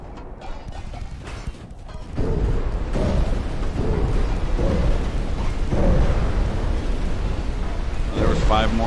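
Heavy battleship main guns fire in the naval warfare game Ultimate Admiral: Dreadnoughts, a loud, sustained rumbling blast that swells and holds after a quieter start, with a voice talking over the din.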